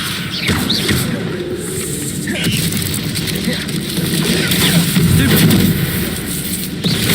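Spell casting effects in the video game Hogwarts Legacy, a dense run of whooshes, bursts and pops layered over a constant low rumble of combat, loud and continuous without pause.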